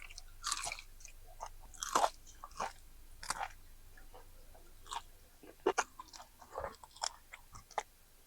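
Crunchy fried lemon pepper chicken wings are chewed up close in a quiet room, with irregular crisp bites and crackles that come every second or so.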